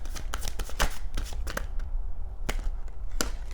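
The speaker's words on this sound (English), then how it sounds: "I'm going to shuffle any more after this." Oracle cards get shuffled up close, sharp papery riffles and taps arriving densely at first, then thinning to a few separate flicks with short pauses between.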